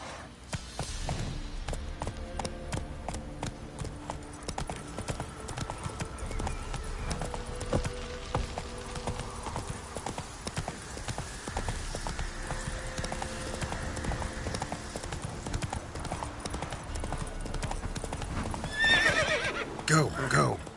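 A horse gallops and neighs in The Witcher 3, with a continuous clatter of hoofbeats and a whinny near the end. A voice calls out over the running hooves.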